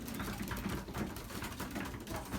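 Belgian young racing pigeons returning to the loft after a 40 km test race, soft cooing and fluttering close by over a steady low background, with no talking.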